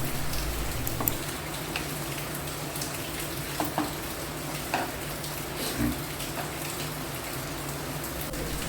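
Egg curry bubbles in a pan with a constant soft sizzling hiss and occasional pops, close and steady throughout.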